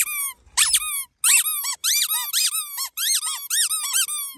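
A squeaky toy dog lets out a rapid run of sharp, bright squeaks in several bursts separated by brief pauses, loud and close, with no talking over it.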